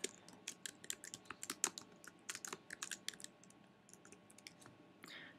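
Typing on a computer keyboard, entering a product number in SAP Business One, comes as a quick, uneven patter of close key clicks with no talk.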